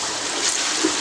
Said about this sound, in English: so I just kind of put a little bit of water